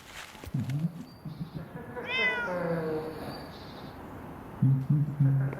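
A cat in a video game meows twice, clear and close, with a longer drawn-out mid-clip meow between short low chirpy calls, over a quiet background with faint game sounds.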